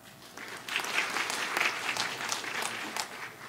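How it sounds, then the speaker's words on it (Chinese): An audience at a PyCon Taiwan 2019 conference talk claps to welcome the speaker, a swelling burst of many hands applauding that holds steady for several seconds. "请大家用热烈的掌声欢迎他。"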